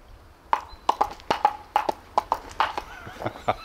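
Horse hooves clip-clop in a steady, evenly spaced walking rhythm, crisp and close, about a dozen hollow knocks in a few seconds with no other sound around them.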